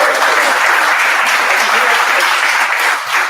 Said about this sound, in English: can everyone clap really loud real quick and pretend you're really enthusiastic?